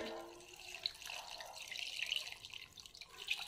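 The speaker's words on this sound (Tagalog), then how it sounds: "Then, ibubuhos na natin ang tubig." Water pouring into a cooking pot holding pork leg for a braised patatim, a steady splashing, trickling stream heard close and alone, with brief drips and bright splashes through the pour.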